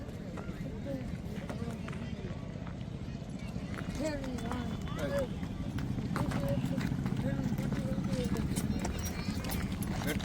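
A Kathiawari filly runs on hard ground, hooves drumming in a steady rapid clip-clop over a constant rumble of wind and outdoor noise.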